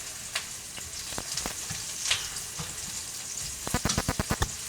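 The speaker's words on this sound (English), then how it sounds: "Okay, we are getting a nice brown on those onions" Onions frying in oil and browning toward caramelized, a soft steady sizzle with scattered pops, ending in a quick run of sharp crackles and spatters.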